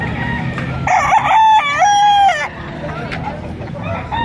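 A large high-station regular gray gamefowl rooster crows once loudly and close by in a long drawn-out call, with softer clucking and background noise before and after.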